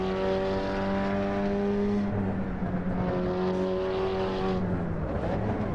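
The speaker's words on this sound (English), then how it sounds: "It sounds good as well, this Golf, it really does." A Volkswagen Golf race car engine in the Assetto Corsa EVO video game drones loudly and steadily, its pitch rising and falling with revs and gear shifts, with no talk over it.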